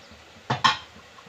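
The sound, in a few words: batter scooped into a thick steel ladle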